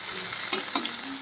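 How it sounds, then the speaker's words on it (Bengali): Cauliflower and eggplant pieces fry in a pan for a vegetable dal, with a soft, even sizzle broken by two quick stirring clicks, close up and without voices. "সবজি ডালের জন্য সবজি ভাজছি"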